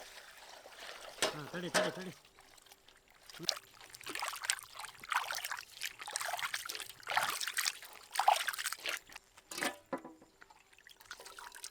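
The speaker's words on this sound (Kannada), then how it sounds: "ನೀರು ಹಾಕ್ಲಿ" Water is poured into a cooking pot while making North Karnataka mutton boti enne khara, a soft trickling splash in short bursts, with people talking nearby.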